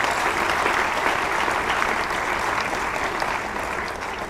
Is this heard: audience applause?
yes